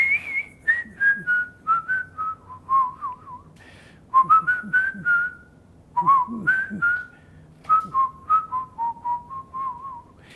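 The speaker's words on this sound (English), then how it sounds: "my goal in life, every time I pull up in my car, is to start whistling." A man whistles loud, clear melodic phrases, three short runs of gliding notes that each step downward, with brief gaps between them over quiet background noise.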